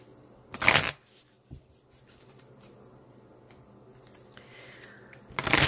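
Tarot guidance cards are shuffled in two short, crisp riffling bursts near the start and end, separated by quiet handling rustles.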